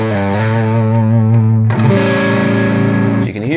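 An electric guitar with distortion and chorus effects plays a fast lick over a dominant chord using the altered scale, sustained and loud, with a pitch shift midway.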